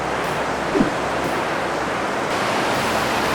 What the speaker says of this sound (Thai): น้ำตกใหญ่มากเลยค่ะ